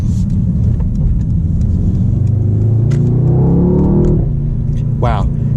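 A Mercedes E63S AMG engine in race mode rumbles loudly and climbs in pitch as it accelerates hard, heard from inside the cabin under a steady low roar.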